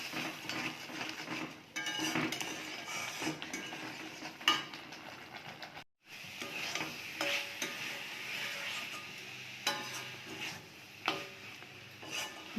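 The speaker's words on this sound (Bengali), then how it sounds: "দিয়ে এটাকে মশলাটাকে ভালো করে কষে নেব।" Ground spices with turmeric, salt, cumin and Kashmiri chili powder stir-fried in a pan, with a continuous sizzle under repeated scraping and rubbing strokes of a spatula against metal, plus a brief pause midway.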